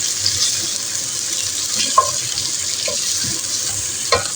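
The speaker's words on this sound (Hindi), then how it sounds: "इन सबको फ्राई कर लेते हैं।" Tomatoes and green chillies fry in a pan with a steady, close sizzling hiss, broken by a few faint clinks.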